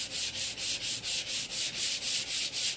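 Painted wood is hand sanded in quick, even back-and-forth strokes, about a dozen rhythmic rasping passes close up with no talking.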